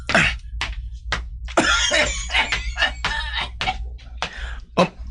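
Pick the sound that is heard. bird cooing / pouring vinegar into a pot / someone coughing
someone coughing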